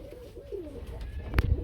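A pigeon coos softly in a low, rolling murmur, with faint background noise and a brief rustle near the end.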